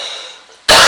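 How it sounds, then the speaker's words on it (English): A person with a cold lets out a single sharp cough near the mic after a quiet stretch, loud and brief at the end. "I'm going to have to cough."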